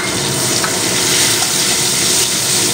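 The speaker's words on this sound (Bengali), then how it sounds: "তো তেলটা গরম হয়ে গিয়েছে, আমি এখানে একটার অর্ধেক পেঁয়াজ কুচিয়ে তেলের মধ্যে দিলাম" Half a chopped onion hitting hot oil for a prawn malai curry, a loud, steady, close sizzle and crackle that fills the clip without pause and with no voices.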